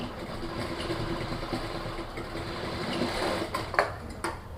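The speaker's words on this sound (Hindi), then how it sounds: "ऐसे करके किनारे किनारे सिलाई लगा देनी है।" A sewing machine hums and taps steadily while stitching along the folded edge of a pleated lehenga skirt belt, with a few sharp clicks and handling noises toward the end.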